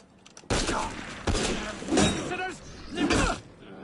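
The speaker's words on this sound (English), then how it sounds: "So the mortar didn't kill the guy we meant to kill." Mortar blasts in the Assassin's Creed Unity video game: several heavy booming impacts, loud and close, arriving in bursts about a second apart with rumbling debris tails.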